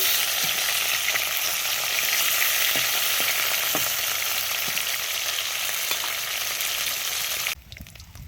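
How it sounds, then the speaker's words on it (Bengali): Large fish frying loudly in a pan, a dense, constant sizzle and crackle close up, with occasional pops, easing off near the end. "মাছগুলো এবার উল্টে দেবো। এক পিঠ ভাজা হয়ে গেছে,"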